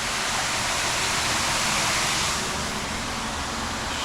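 Waterfall pouring into a 25,000 gallon fish pond, a steady, loud broadband rush of splashing water that holds constant throughout with no voices over it.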